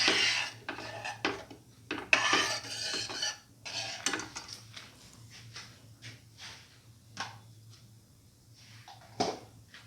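A spoon stirs salt into a pineapple and coconut milk mixture, scraping and clinking steadily against the bowl in close, quiet, irregular strokes.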